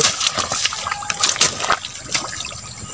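Water let out to drain a pond while catching catfish, flowing and trickling close by with brief gushes and splashes; no talking.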